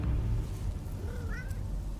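A short, rising meow from a cat, fairly close, over a low rumbling background with no talking.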